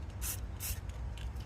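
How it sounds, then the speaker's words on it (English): Short bursts of an aerosol spray can hiss, two longer sprays followed by a quick brief one, close up over a low background rumble. "now what we're gonna do is just spray it"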